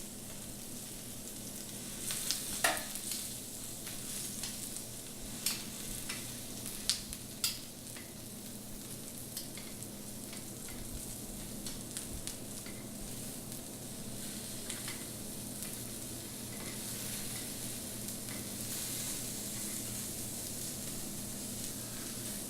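Meat sears on a Himalayan salt cooking brick with a soft, steady sizzle and occasional sharper crackles and taps early on, fairly quiet and continuous with no talking.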